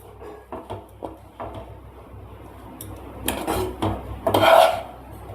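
Fried rice is scraped and scooped out of a pan, with irregular rasping and scraping strokes that grow louder and denser toward the end.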